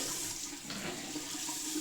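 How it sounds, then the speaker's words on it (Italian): Tap water runs steadily from a faucet into a sink, a soft continuous splashing hiss with no voices. "Intanto faccio scorrere un po' d'acqua perché è ancora fredda"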